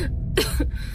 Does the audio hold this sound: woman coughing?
yes